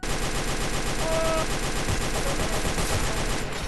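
Rapid automatic gunfire from a video game rattles on in continuous, closely spaced bursts, loud and near, with no talking.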